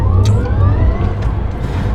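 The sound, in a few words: Rimac Nevera electric hypercar accelerating in launch control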